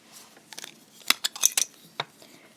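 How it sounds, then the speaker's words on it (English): Scissors snip off a tail thread while beading a pearl and diamond bracelet, giving a run of small, crisp metallic clicks and snips up close, quiet and alone. "I'm actually going to trim off that tail thread"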